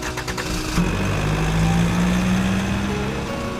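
A small motor in a homemade matchbox toy tractor starts and runs with a steady buzzing whir, close and fairly loud, holding an even pitch after a brief rattly start.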